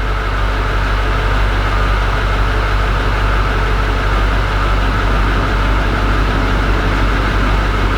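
Steady, loud drone of a diesel engine idling in a 2003–2009 Chevrolet Kodiak / GMC Topkick truck, a continuous low rumble with a constant hum and no breaks.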